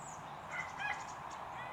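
A rooster sound effect in a bow-and-arrow shooting game plays as a short, loud fowl call near the middle of the clip, over a steady background of game noise.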